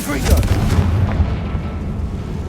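A Confringo spell blast fires in the Hogwarts Legacy video game, a booming, rumbling burst with a heavy low-end thud that rolls on for a couple of seconds amid continuous game noise.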